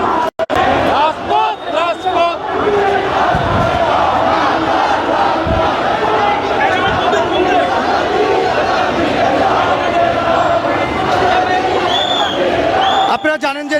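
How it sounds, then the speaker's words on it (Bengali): A large crowd on a protest march in Dhaka chants and shouts in unison, loud and close, a dense roar of voices filling the street for the whole stretch, with individual shouts rising above the mass. "সেখান থেকে একটি বিশাল বড় মিছিল নিয়ে তিনি কিন্তু প্রতিবাদ জানাচ্ছেন"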